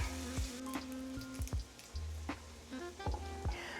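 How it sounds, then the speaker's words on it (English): Onions sautéing in a pan for Swedish meatballs give a soft, steady sizzle with scattered light pops and clicks, close and quiet, with no talking. "So while these lovely onions are sauteing, we're gonna go do some garlic."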